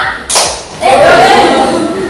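A classroom of students claps once in unison as part of a patterned clap chant, a single crisp smack, followed by children's voices chanting together.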